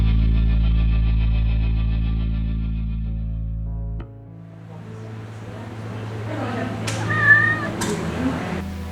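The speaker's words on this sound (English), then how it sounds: "taking care of some little kitty cats at the Vancouver Orphan Kitten Rescue" Small kittens at a Vancouver orphan kitten rescue let out a few high, short meows near the end, after a low musical drone fades, with faint background noise.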